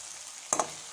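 Peas and carrots cooking in a pan are stirred, giving a short double scrape and sizzle against a steady frying hiss, close and alone.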